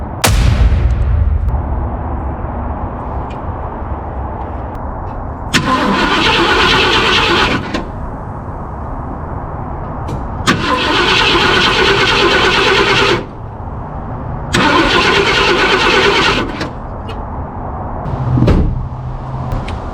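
A 1966 Ford Thunderbird that sat for years cranks in several loud, sustained bursts of a few seconds each, with pauses between attempts in a garage.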